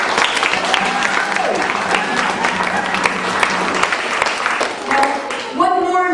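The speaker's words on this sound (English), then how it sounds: "So a round of applause for him." A closing-ceremony audience bursts into loud, dense applause that fills nearly the whole stretch, with a brief voice or tonal sound cutting in right at the end.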